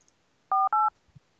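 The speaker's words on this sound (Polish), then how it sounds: "Jeszcze dzwonimy raz do trenera." Two quick, loud telephone keypad tones, DTMF beeps pressed in fast succession while calling a football coach, followed by a couple of faint soft clicks.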